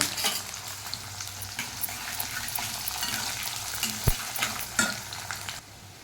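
Green chillies, garlic and onions fry in a pan with a continuous close sizzle, broken by scraping stirs and a sharp knock of the spoon against the pan; no speech.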